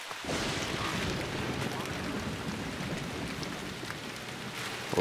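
Rain falls steadily in the video game Lucius, a soft, constant patter and hiss at low level lasting the whole span.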